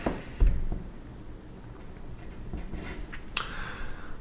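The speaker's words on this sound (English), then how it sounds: "Let's sketch a little graph." A pen sketching a small graph of one arch of a sine curve on paper, soft brief scratching strokes with a tap near the start, faint and close with no talking.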